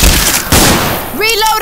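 Magnum pistol shots ring out in a Left 4 Dead 2 match, loud and close, a few sharp blasts in quick succession with a voice rising briefly over them at the end.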